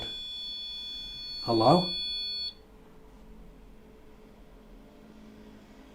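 A REM pod paranormal detector gives a loud electronic beeping alarm for about a second, with steady high tones, then cuts out, leaving a quiet room hum; a single voice speaks briefly.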